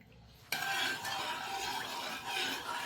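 A spoon stirs curd in a bowl at home. The close scraping swirl starts abruptly after a quiet half second and runs continuously for over two seconds, with faint clinks and no talking.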